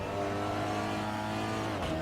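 A race car engine in a Dream 2 Drive driving simulator drones steadily and loudly under heavy braking and acceleration through the gears, with no talk.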